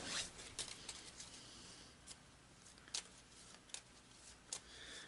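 A deck of cards for the Massive Darkness board game being shuffled up by hand, quiet soft riffles and shuffling clicks repeating in short bursts with no talk.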